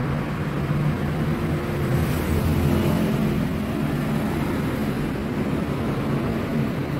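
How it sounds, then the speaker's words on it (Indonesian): A Yamakoyo ZS 1100 16 HP single-cylinder diesel engine runs nearby, with a loud, steady low rumble and chugging drone throughout. "Mesin penggerak diesel."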